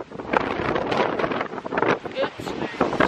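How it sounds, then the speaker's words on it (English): Strong wind buffets the microphone at a beach, a steady rushing roar throughout with brief gusts, while people's voices come and go underneath. "It's so windy"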